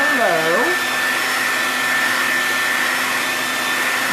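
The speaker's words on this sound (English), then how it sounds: "I'm going to hit it with my blow dryer so that way I can speed the process up." Handheld blow dryer drying a chalk transfer for Christmas decor, a steady loud whirring roar running throughout.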